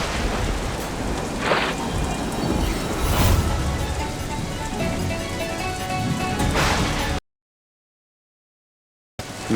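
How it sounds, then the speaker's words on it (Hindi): Heavy rain pours down in a dense, loud, steady roar, with deep rolls of thunder swelling through it before a sudden cut to silence. "ये वर्षा कोई सामान्य वर्षा नहीं, अवश्य कोई अनिष्ट होने जा रहा है।"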